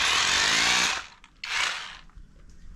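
An OSUKA cordless rotary hammer drills with a 19 mm bit, a loud close grinding burst for about a second, a short pause, then a second shorter burst that fades out.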